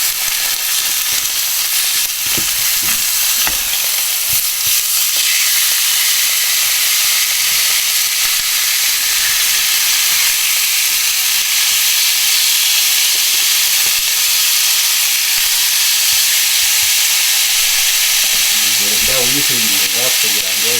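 Pork ribs fry in a pan with a loud, constant broadband sizzle and hiss close up, and a voice talks over it briefly near the end.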